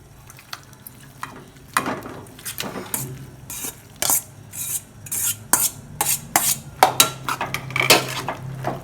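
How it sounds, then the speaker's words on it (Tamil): Pasta tipped into a pan of creamy white sauce, followed by repeated clinks and scrapes of a spoon against the pan, close and irregular, growing busier as the stirring goes on. "பாஸ்தா கொட்டிக்கலாம்."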